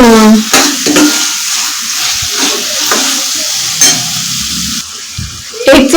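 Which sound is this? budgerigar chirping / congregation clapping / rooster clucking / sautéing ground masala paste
sautéing ground masala paste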